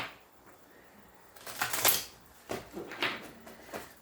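A deck of tarot cards being shuffled by hand, a few quick riffling bursts of crisp flapping and shuffling, close and fairly quiet with short pauses between.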